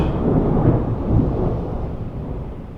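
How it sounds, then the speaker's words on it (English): A deep, rolling rumble of thunder swells loudly, then slowly fades away over a few seconds, with no talking. "that was a thunder."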